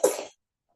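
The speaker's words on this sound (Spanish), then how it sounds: "por eso la tos y eso" A single short, close cough, abrupt and loud, followed by silence.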